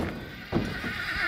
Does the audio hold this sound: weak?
no